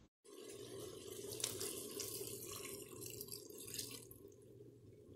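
A cup of water poured into a pot of eggplant on the stove, a steady continuous watery rush lasting several seconds, fairly quiet and close, with no talking.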